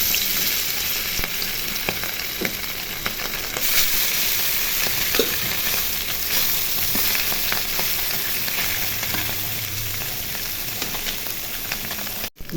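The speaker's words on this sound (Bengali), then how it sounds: "তেল গরম হয়ে গেছে, এখন মাছগুলো ভেজে নিব।" Small puti fish frying in hot oil give a loud, constant sizzle with scattered crisp pops and faint stirring scrapes, steady throughout and free of speech until a brief cut at the very end.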